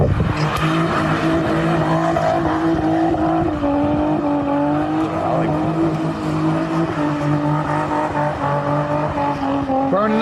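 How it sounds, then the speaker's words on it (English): A car doing a burnout, engine roaring loud and steady with a high sustained whine of spinning tires running through the whole stretch, close by and continuous. "Burnout."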